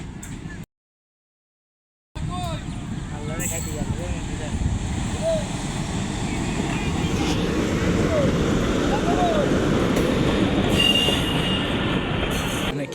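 A train rolls past close by, a steady heavy rumble with squealing wheels and metallic screeches, after a brief silent gap at the start.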